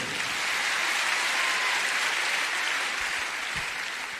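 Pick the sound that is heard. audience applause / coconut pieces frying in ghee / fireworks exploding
audience applause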